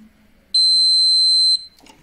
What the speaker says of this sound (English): It beeped at us.